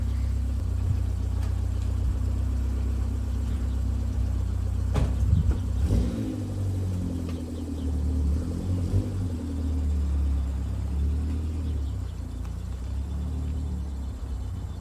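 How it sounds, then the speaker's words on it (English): A vehicle engine rumbles steadily throughout, with a low drone and occasional clunks and rises in revving as a truck drags a small Subaru Sambar backwards with sticking rear brakes. "I'm gonna try dragging it backwards with my truck."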